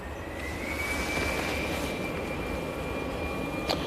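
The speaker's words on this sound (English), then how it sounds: "We have our next EasyJet now departing." An easyJet Airbus A319 departs Manchester Airport for Amsterdam, a steady broadband jet roar with a thin whining tone running through it, held at an even loudness as the aircraft passes, with no voices.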